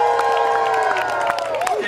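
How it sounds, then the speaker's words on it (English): An audience cheers and claps at a live M'Baku Jabari show at Disney California Adventure, a close, steady burst of crowd noise with a performer's voice over it. "Cheer for this one."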